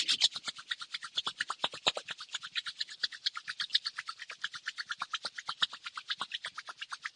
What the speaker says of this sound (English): we'll just rub our palms